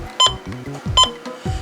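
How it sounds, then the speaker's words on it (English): Button beeps from a First Alert WX167 weather radio, two sharp bright electronic beeps about a second apart, close and clear, among softer clicks and tones. "Button beeps and siren test"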